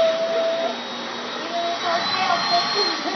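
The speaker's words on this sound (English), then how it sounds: "He just loves being vacuumed." A vacuum cleaner runs steadily at close range while a cat is vacuumed, a continuous loud whine and rush that holds level throughout.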